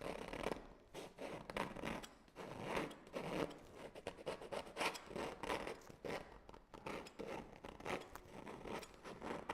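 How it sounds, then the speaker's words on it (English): A tool scrapes texture off an oil painting in short, repeated rasping strokes, close and fairly quiet, in an uneven rhythm with no talking. "So I need to scrape that texture."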